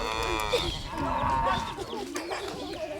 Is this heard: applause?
no